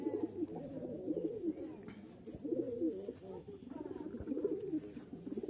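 A male Hatbaji hand tumbler pigeon coos in low, throaty repeated bursts, close by among other birds, with people talking faintly in the background.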